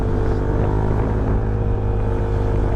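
Steady low engine drone of a Honda Airblade scooter fitted with a 62mm bore, heard while riding during break-in, a constant rumbling hum with wind noise and no talking.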